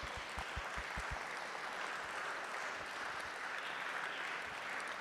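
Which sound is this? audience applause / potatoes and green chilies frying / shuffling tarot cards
audience applause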